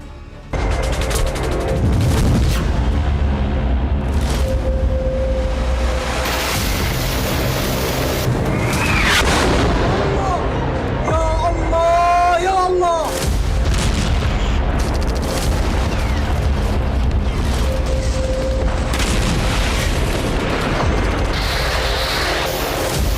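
A loud, continuous rumble of booming blasts and crackling bursts from an explosion at a hospital in Gaza, with a long roaring explosion swelling midway, dense and chaotic throughout.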